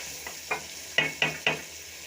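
Spinach being stirred and fried in a pan for palak chicken: five spaced spatula scrapes and tosses, each followed by a brief sizzle, close and moderately loud.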